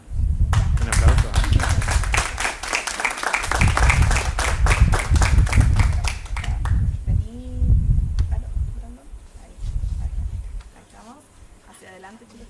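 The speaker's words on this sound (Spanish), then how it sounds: "Un aplauso" Brisk, crisp clapping from a small crowd at a Spanish-language award presentation fills the first six seconds, then tapers into scattered claps as people start talking nearby.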